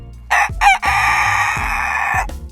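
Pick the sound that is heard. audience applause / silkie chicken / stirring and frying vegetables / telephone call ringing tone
silkie chicken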